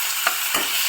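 Halved tomatoes sauté in a pan with a quiet, continuous sizzle, broken by two short stirring scrapes.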